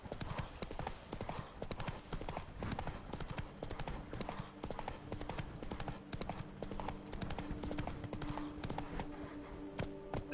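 Hooves of the horse Roach clip-clop steadily in The Witcher 3: Wild Hunt video game, a continuous quick rhythmic trot close up with game ambience underneath and an occasional faint snort.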